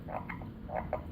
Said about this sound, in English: that croaking kind of throws me off